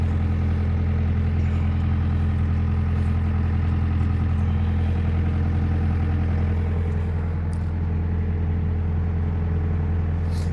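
A backhoe engine runs at a steady idle close by on an off-grid farm, a loud, even low rumble that holds unchanged throughout.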